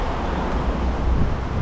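Wind blowing beneath a bridge, a steady low rumbling buffet of air against the microphone, fairly loud and continuous with no talk.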